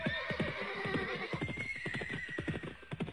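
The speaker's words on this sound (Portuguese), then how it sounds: "os cavalos começaram a empinar, a escoicear o chão e depois a relinchar assustados" Frightened horses neighing in loud, shrill whinnies mixed with a rapid clatter of hooves, close and busy, with no voices.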